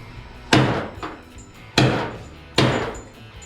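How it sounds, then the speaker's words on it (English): Three sharp hammer strikes on a screwdriver loosening a screw on a 1949 Jeep Willys pickup cab, each a loud metallic crack with a short ringing decay, spaced about a second apart. "and then smack it with the hammer."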